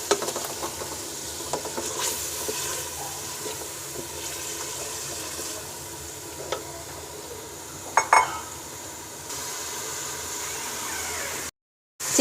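Chicken added to a hot pan and frying, a soft continuous sizzle with occasional clinks of a utensil against the pan, faint and steady throughout.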